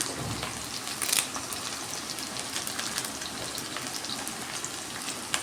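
Chopped onions, green chilies and curry leaves fry in hot oil, a soft, continuous crackling sizzle with a brief sharper burst of spatter near the start and a steady hiss after it.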